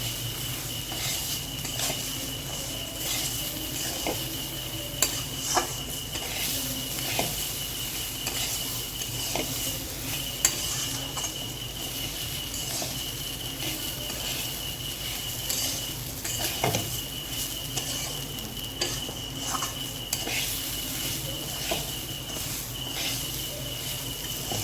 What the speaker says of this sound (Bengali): আমার চাল ডালটা ভাজা হয়ে গেছে মশলা দিয়ে